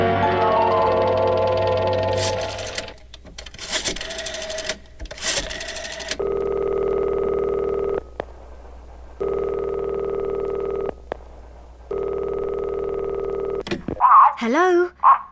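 A telephone call placed from a hospital, with a burst of rapid dialing pulses followed by a steady repeating ringing tone in long evenly spaced bursts, then a voice briefly answers at the end.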